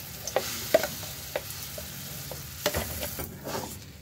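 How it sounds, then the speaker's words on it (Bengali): Lentil paste for dhokar dalna sizzles in hot oil in a wok, a steady frying hiss broken by scraping spatula stirs and a few clinks, fairly quiet and without talk. "তেল গরম হয়ে গেছে, এবার ডালটা কড়াইয়ের মধ্যে দিয়ে দেব।"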